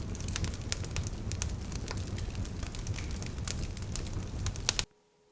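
A campfire crackling, with dense, irregular pops and snaps over a soft roar, steady and close for about five seconds before cutting off abruptly into silence.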